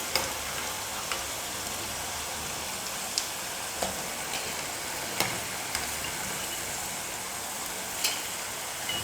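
Cauliflower florets for gobi manchurian deep-frying in hot oil, a steady sizzling hiss with occasional sharp pops and ticks scattered throughout, no voices.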